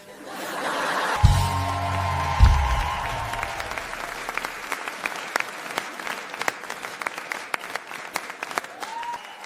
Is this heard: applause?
yes